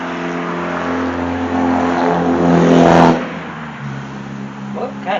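A car engine revs up to a loud peak and drops back, a broad roaring swell with steady harmonic drone, lasting a few seconds alongside a voice.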